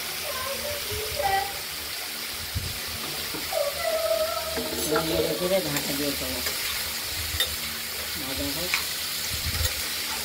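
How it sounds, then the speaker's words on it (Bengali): Bitter gourd and pumpkin fry in a pan with mustard, a continuous hiss and crackle of frying underneath, with occasional stirring and faint background voices. "ঢাকা দিয়ে থাকলাম কুমড়োটা ভাজা ভাজা হচ্ছে"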